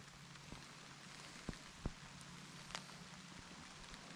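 Rain falling on a tent during a bikecamping trip near Idaho City, Idaho, with the rain fly pitched without its poles: a faint, hissing patter broken by a few sharper drops tapping the fabric, with no voices.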